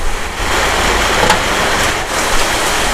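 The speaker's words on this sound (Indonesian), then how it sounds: "hujannya deras sekali." Dense, steady hiss of heavy rain pouring down at about 5 p.m., loud and close, with no talking.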